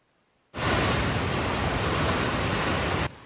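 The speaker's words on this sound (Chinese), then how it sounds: "大水冲过桃园、石门水库、洪泛土沙、崩坑出水口、水声轰轰叫" Floodwater roars out of the Shimen Reservoir outlet, a loud, steady, broadband rush that starts abruptly, holds for nearly three seconds, then drops away; no voices.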